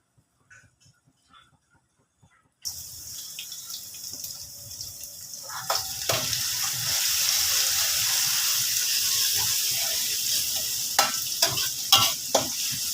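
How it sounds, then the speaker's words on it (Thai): Garlic fries in hot oil for a Thai chicken rice soup, a steady broadband sizzle starting abruptly and holding loud, with occasional sharp crackles and pops toward the end, no voices. "เดี๋ยวเจียวไว้กระเทียมให้เหลืองหอมเลยพี่น้อง"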